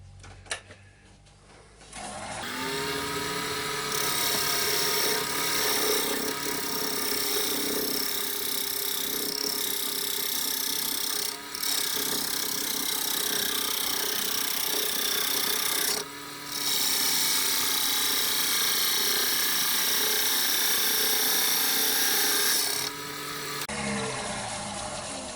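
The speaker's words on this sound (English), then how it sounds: "Now for this one I'm just going to go along and use my parting tool that way, just to flatten this edge off." A parting tool cuts across the rim of an ash bowl spinning on a wood lathe, giving a steady, loud, scraping rasp with a few short breaks. There is no talking.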